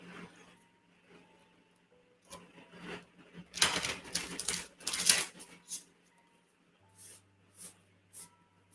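Tarot cards being shuffled, soft riffles and taps that build into a couple of louder flurries of crisp card flicks, then a few short separate snaps, close and otherwise quiet.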